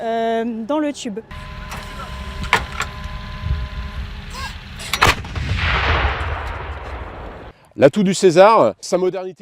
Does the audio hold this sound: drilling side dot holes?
no